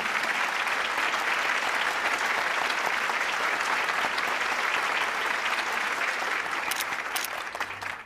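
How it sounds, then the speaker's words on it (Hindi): An audience applauds to welcome an award recipient to the stage at a ceremony, giving a sustained, even wash of clapping from a large crowd that holds steady throughout and tapers off only at the very end. "उनका तालियों से स्वागत कीजिए।"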